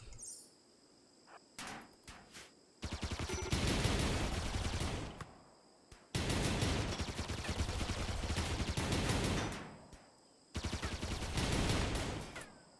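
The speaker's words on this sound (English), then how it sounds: "How many shots does the shuriken cannon put out?" Shuriken cannon firing in RimWorld during a Warhammer 40,000 ork camp assault, three long loud bursts of rapid rattling shots separated by brief gaps, with faint chirping in the quieter moments between.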